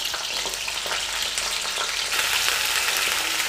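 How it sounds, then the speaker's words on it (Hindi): Cauliflower frying in a hot pan on high flame, a dense continuous bright sizzle heard up close, with occasional stirring and no speech. "इसमें हम गोभी डाल देंगे और इसको हम फ्राई कर लेंगे थोड़ा"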